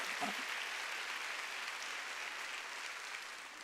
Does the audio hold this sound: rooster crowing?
no